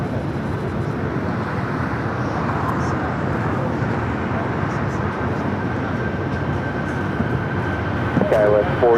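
An airliner takes off from runway 25 right at LAX, a steady broadband jet roar holding loud and even throughout, with radio chatter faintly present beneath it.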